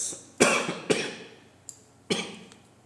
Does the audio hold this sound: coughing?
yes